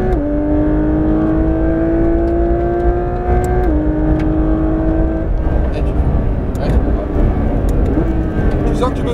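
A Porsche 992 GT3 RS accelerating hard on the Fontenay-le-Comte circuit, loud in-car engine drone rising steadily in pitch with brief dips at gear changes, and people talking over it.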